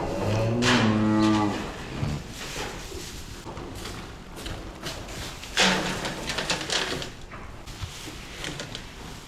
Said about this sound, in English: these are our 6 dry cows that are left to calve